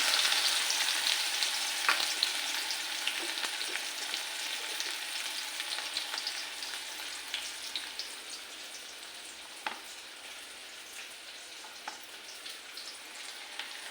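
Onion frying in hot oil with asafoetida in a pan, giving a bright, continuous crackling sizzle that starts loud and slowly eases, with a few scattered spoon taps.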